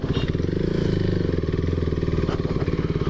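Close, steady low thrum of a KTM Duke 390 engine chugging along in first gear across uneven ground, a continuous pulsing drone with faint knocks over it.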